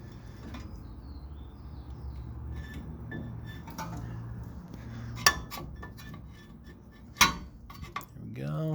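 Metal brake pads being slid back onto the caliper of a 1996 Nissan D21 Hardbody, with light scrapes and a few sharp metallic clinks standing out over quiet background hum.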